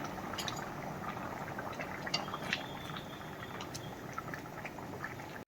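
A pot of thick cauliflower and potato curry simmers with a soft, steady bubbling and occasional small pops, quiet and close, with no talking.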